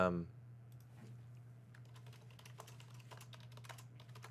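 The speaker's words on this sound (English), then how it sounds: "typing to Jacob right now." Steady keyboard typing, quick uneven taps close by over a low constant hum, with no one speaking.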